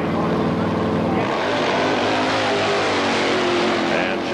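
A Pro Gas drag racing motorcycle roars down the strip on a pass, a loud continuous engine howl with pitch shifting as it accelerates, with a commentator talking over it.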